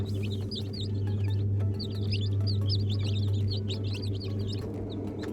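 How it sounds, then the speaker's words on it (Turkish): Newly hatched chicks on the ground floor of a village coop give high, rapid peeping chirps in overlapping bursts, close and clear over a constant low hum of background machinery. "Yeni doğanlar. Bunlar daha bebek. Uyan civcivler."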